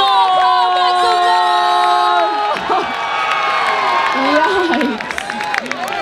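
Crowd at a Red Bull Dance Your Style battle in Oakland roaring and whooping, loud and close, sustained shouts and cheers with scattered clapping that thins toward the end.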